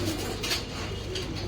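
Pigeons kept alongside lovebirds coo softly and continuously nearby, a low, throaty murmur with a few brighter chirps above it.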